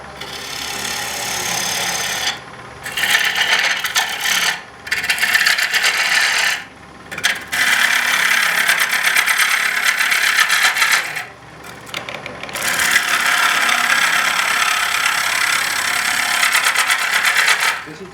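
Gouge cutting a natural-edge wood bowl on a lathe with a bottom-side bevel grind, a loud steady rasping shear broken by several short pauses as the tool lifts off, with no talk.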